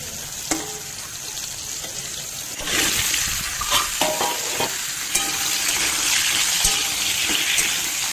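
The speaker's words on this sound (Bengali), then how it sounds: "ওই তেলে ভেজে নেবো কেটে রাখা কুমড়ো।" Cut pumpkin fries in hot oil in a wok, a continuous sizzle that swells louder partway through as the pieces go in, with scattered clinks and stirring scrapes over the crackle.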